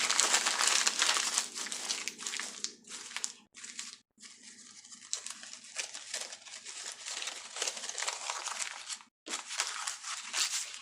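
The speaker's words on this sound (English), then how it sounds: "just took my wrapping paper, crunched it up in a ball, then unwrapped it" Gift wrapping paper crumpled into a ball and then pulled open again, a close, steady crinkling and crackling that runs in bursts with a few brief pauses, no voices.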